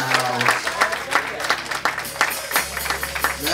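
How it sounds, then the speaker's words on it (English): A congregation at a funeral service claps steadily in a church, fairly close and mixed with voices, while a low sustained organ-like tone holds underneath throughout. "Clap your hands and give God praise."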